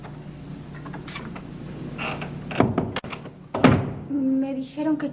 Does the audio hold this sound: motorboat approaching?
no